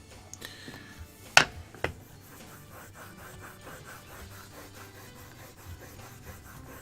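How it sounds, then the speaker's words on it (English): A curved carving gouge being sharpened for owl woodcarving, faint repeated rubbing and rasping strokes with a couple of sharp knocks near the start, quiet and close. "sharpening these is a little bit more awkward than sharpening a flat one because you've got to turn the chisel"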